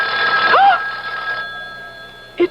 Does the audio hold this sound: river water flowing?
no